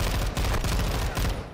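Dense, loud automatic gunfire from enemy gunners in the Modern Warfare II campaign, a continuous rattling barrage with rapid overlapping shots and brief dips filling the whole moment.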